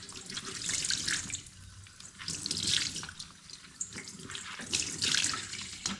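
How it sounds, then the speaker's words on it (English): Cold water runs from a tap over freshly food-dyed wool in a sink, a close, steady splashing stream that swells and dips in waves as the fibre is moved under it. "Just want to run the cold water on this."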